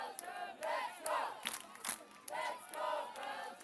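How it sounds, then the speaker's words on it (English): A Belgian crowd at a women's under-17 youth ultimate frisbee game, Belgium against Germany, cheers and chants in rising bursts, fairly close and lively, with shouts punctuating the noise. "Belgian crowd tries to fire up."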